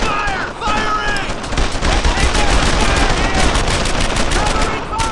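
Soldiers fire rifles and machine guns in the World War II game Brothers in Arms: Earned in Blood: dense, continuous gunfire with overlapping rapid bursts, loud and close, shouted voices mixed in.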